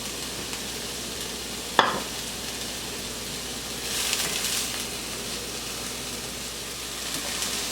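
Peppers hit a hot pan of caramelized ingredients for keto stuffed acorn squash, giving a steady broadband sizzle with a brief clatter early on and a louder hiss swelling midway.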